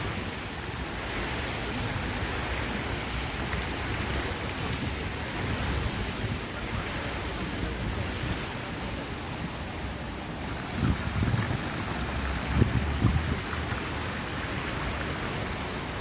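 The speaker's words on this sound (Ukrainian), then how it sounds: "Фонтан класний." Water from the multimedia fountain in Lublin rushes and splashes in a steady, loud, broadband roar like heavy rain, continuous throughout with a few louder surges near the end.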